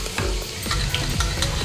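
Onions frying in a pan for a kaju chicken gravy make a loud, continuous close sizzle, with repeated scraping stirs rising above the crackle.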